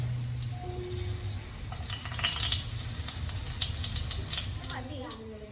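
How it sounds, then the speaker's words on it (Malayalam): Chicken frying in a hot pan in a home kitchen gives off a steady, moderate sizzle, with faint clinks and stirring sounds over it and a brief voice near the start. "നമുക്ക് ചിക്കൻ പൊരിക്കാം"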